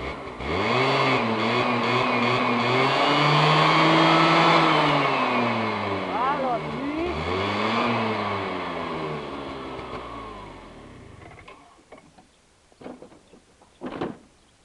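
A motorcycle with a Yamaha engine revs while standing still, its loud engine tone rising and falling in long sweeps before cutting off, followed by a few faint knocks and a short blip.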